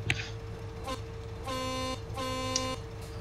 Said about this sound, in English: this thing's got a wimpy horn